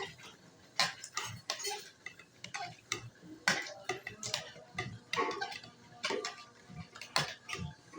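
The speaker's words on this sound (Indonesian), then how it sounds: "Nah kita akan mulai tumbuk ya" Ingredients for rujak kopi pounded in a mortar with a pestle, giving repeated sharp knocking strikes in an irregular rhythm, close and fairly loud, with some clattering between blows.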